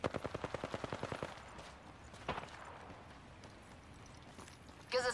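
A rapid burst of about a dozen evenly spaced gunshots from Apex Legends rattles out at close range, then fades into quieter game noise, with a louder brief flurry of shots near the end.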